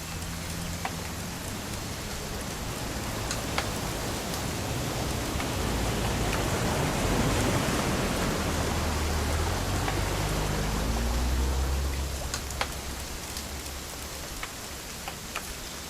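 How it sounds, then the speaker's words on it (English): Steady rain in What Remains of Edith Finch falls as a dense, even patter of drops, swelling slightly louder midway before easing. "It's gonna rain the whole weekend,"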